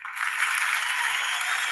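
A canned applause sound effect on a comedy talk show, a dense, even wash of clapping that swells in quickly and holds steady.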